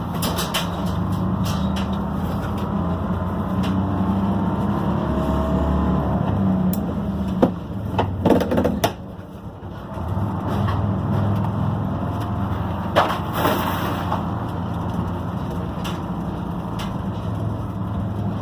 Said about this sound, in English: The whole window frame rattles.